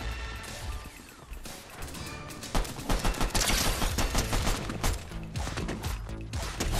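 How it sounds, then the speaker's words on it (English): Rapid bursts of gunfire from a pistol in the video game Fortnite, dense overlapping shots and crashing impacts in a busy, loud game mix that swells after the first few seconds. "I'm fragging out with my pistol"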